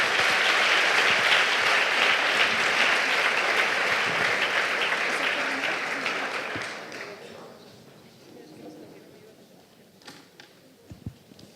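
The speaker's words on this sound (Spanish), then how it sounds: "Un aplauso para ellos." Dense audience applause fills a public health talk, loud and sustained for several seconds before tapering off into a quiet room with a few stray sounds.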